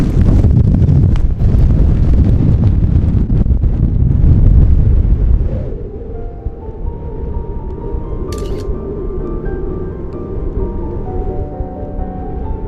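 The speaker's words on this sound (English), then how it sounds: "the wind was relentless" Strong wind roaring and buffeting the microphone during a snowstorm near Jackson, Wyoming, loud and continuous, easing to a steadier lower rush in the second half.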